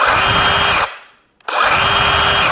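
A Dewalt 20V XR power tool with soft start and electric brake whirs loudly and steadily, stops abruptly into a brief silence, then ramps back up and runs on, close and alone.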